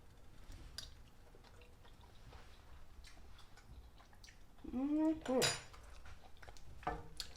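Cutlery clinks and taps against a pot while homemade Alfredo pasta is taste-tested, soft scattered knocks with one louder scraping clatter near the end, in a quiet kitchen.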